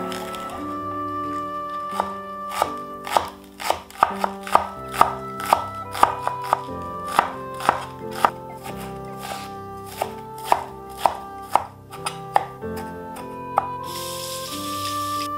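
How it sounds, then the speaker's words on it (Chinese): Napa cabbage chopped with a knife on a board for a pork bun filling, a long run of sharp, close thuds in an uneven quick rhythm, no voices. "大白菜切碎"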